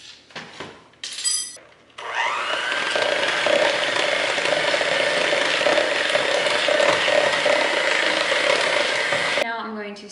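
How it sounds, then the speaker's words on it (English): An electric hand mixer beats softened butter until creamy in a home kitchen, a steady loud whirring drone with beaters rattling in the bowl running for about eight seconds after a few brief clatters, then stopping. "I'm going to use my electric mixer and beat this softened butter until it's nice and creamy"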